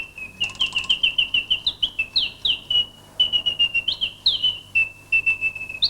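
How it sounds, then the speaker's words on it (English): An antique mechanical singing bird box automaton chirps close by, trilling rapid whistled notes and rising sweeps in quick repeated bursts with brief pauses. "So a lovely little bird box there."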